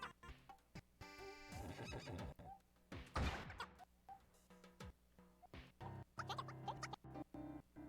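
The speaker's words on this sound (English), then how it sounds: "Nobody understands what the horse is saying." A horse in the video game Miitopia neighs in a short, bright whinny among soft clip-clop and small ticking game sounds, all quiet and clean with no talk.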